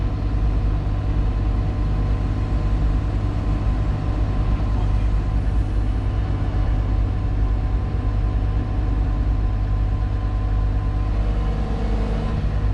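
A Cat 938K wheel loader running steadily while its bucket is handled during loading onto a trailer, a constant deep diesel drone and hum with little variation throughout.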